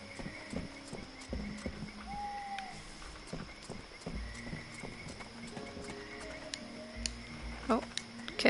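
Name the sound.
horse hooves clip-clopping in a video game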